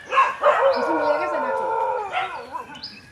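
Rival groups of street dogs from two neighbourhoods howl and yelp at each other, a close, wavering chorus of long drawn-out howls with short barks breaking in.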